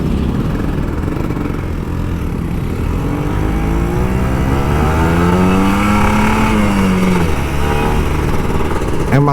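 An older Kawasaki Ninja RR 150 two-stroke motorcycle revs hard and close, the engine pitch climbing and falling through a throttle sweep, loud and continuous with no talking.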